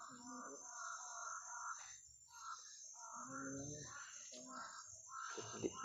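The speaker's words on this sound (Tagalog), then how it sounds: "sobrang daming uwak" Several crows caw repeatedly nearby, harsh calls overlapping in scattered bursts over a steady high electronic whine.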